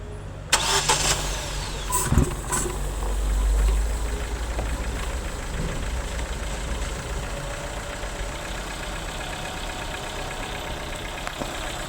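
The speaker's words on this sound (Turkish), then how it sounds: "Evet motoru çalıştıralım" A vehicle engine, just after an intake and airway cleaning, cranks and catches, then settles into a steady, rumbling idle close by, with a low continuous drone and faint mechanical knocking.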